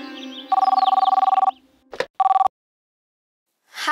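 A telephone rings loud and close in two bursts of trilling bell tones, a longer ring then a short one, with quiet pauses between.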